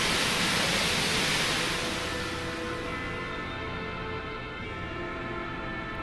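A waterfall at a water temple in the Tales of Berseria video game roars as a loud, steady broadband rush, slightly softening after the first couple of seconds but continuing without a break.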